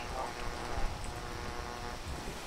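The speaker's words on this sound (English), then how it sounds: "Not the rain, bro. Not the rain." Steady rain in the video game PEAK, a continuous even hiss of falling drops filling the whole stretch without pause.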